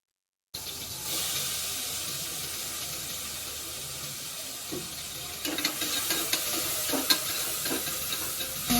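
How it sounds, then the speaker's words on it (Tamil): Big onions dropped into a hot pan and frying for mutton biryani, a steady broadband sizzle that swells after the first second and carries occasional stirring scrapes, no voices. "இதுல வந்துட்டு வெங்காயத்தை போடுறோம்"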